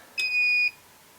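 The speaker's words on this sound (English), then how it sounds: "this meter beeps at me and shows me a high voltage thing" A digital multimeter gives a single clear electronic beep, about half a second long and fairly loud, warning of high voltage while testing a bad fuse in a BK 1653 AC power supply.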